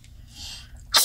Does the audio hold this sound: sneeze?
yes